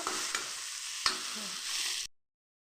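Tomato and garlic paste frying for a makhana cashew curry, with a steady close sizzle broken by a few spatula scrapes against the pan before it cuts off abruptly.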